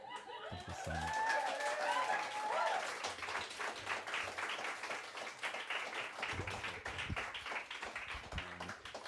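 A live show audience applauds at the end of a performance. The clapping is fairly soft and sustained, with a few cheers and scattered chuckles mixed in early on.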